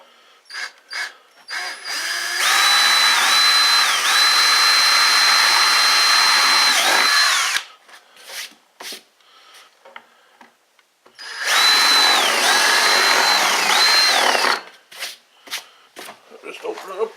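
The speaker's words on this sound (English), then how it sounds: "Now we just have to drill the hole for the vent." A power drill with a slightly undersized bit bores a vent hole in a gas can cap. It gives two loud, close whining bursts, one long and one shorter, with talking and handling noises between them.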